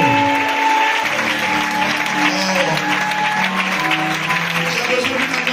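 A congregation claps and cheers together during a French-language church service, a steady, dense wash of applause that carries on unbroken throughout, with music or voices blended underneath.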